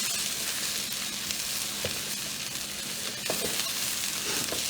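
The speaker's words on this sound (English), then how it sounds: "You need to stir. I'm stirring." Steady sizzle and frying from a pot of shrimp stew as flour is stirred in, a continuous close bubbling hiss with faint scrapes of the spoon.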